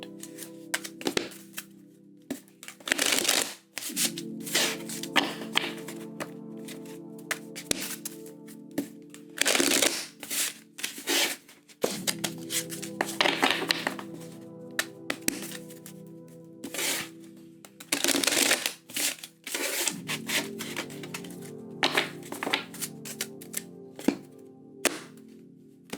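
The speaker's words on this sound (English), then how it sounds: "we're going to do 3 shuffles" A deck of tarot cards shuffled by hand in a quiet room: bursts of riffling and soft slaps repeat in uneven rounds, with brief pauses and taps between them, close and clear.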